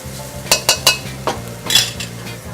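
Carrots cooking for chow mein are stirred in a pan, giving a few sharp utensil scrapes and clinks against the metal over a soft low sizzle, fairly close and loud.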